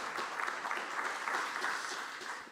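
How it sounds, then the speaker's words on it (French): An audience applauds after a pitch at a deeptech startup event, with steady, moderately loud clapping from many hands throughout, slightly reverberant as in a conference hall. "On l'applaudit, s'il vous plaît?"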